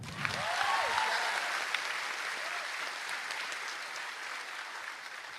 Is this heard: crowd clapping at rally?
yes